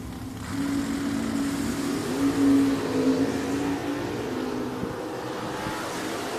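Drag race at Richmond Dragway between a 1968 Camaro and a 1962 Nova, a steady loud engine roar with a droning tone that swells slightly midway, heard from a distance without voices.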